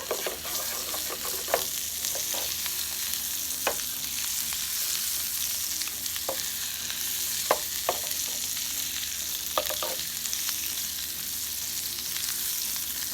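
Black bean tacos fry in a pan with a steady, bright sizzle throughout, punctuated by scattered sharper crackles and pops at irregular intervals, with no voices.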